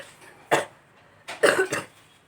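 A persistent cough: one sharp cough, then a brief pause and a quick double cough, close and fairly loud in a quiet room.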